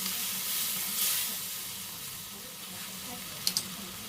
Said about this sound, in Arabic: هنحط عليهم بقى عصير طماطم او معلقه صلصه متدوبه في ميه